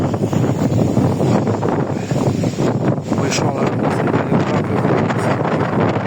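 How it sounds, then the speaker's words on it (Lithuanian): Strong wind buffets the microphone with a constant loud rumble and roar in the Zanavykai region of Lithuania, while a voice speaks briefly underneath. "viską vėjas gadina"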